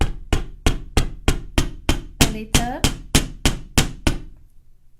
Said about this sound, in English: And then I have this hammer, love this little hammer.